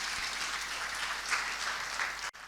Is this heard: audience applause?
yes